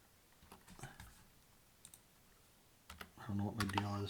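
Scattered keystrokes on a computer keyboard during a JavaScript programming class, soft clicks in small clusters, with a person talking quietly near the end.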